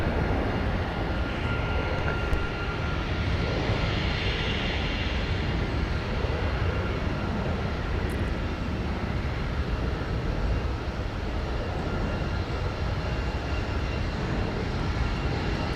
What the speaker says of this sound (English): there she is, Delta 9er Heavy that just touched down from London, taxiing to the gate on Alpha